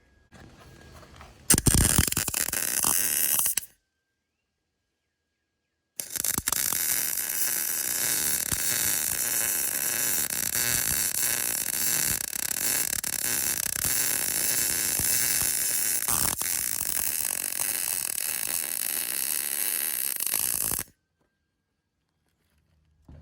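Steel piece being welded in a workshop: a short loud crackling burst, a pause, then a steady harsh buzzing crackle that runs for about fifteen seconds before cutting off, with no talking.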